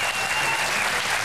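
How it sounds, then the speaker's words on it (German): A TV game-show studio audience claps in a dense, sustained round of applause, loud and close, with no talking. "Aber dann genießen wir ganz einfach mal den Applaus."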